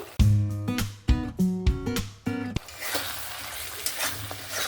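Fried potatoes dropped and stirred into cooked spice masala in a pan, with a few sharp clattering impacts up front giving way to a steady, close sizzle.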